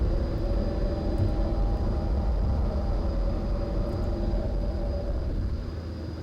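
A propeller plane in a flight simulator taxis with a steady, loud engine drone that holds evenly and eases slightly near the end, with no talking.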